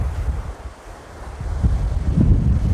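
Wind buffets the microphone on a rocky beach in Pondicherry, with a low rumble of waves and surf underneath that swells louder toward the end; no voices.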